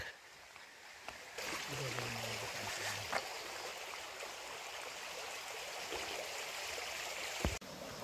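Broad, steady rush of flowing stream water fills the scene, with a faint voice and a brief thump near the end.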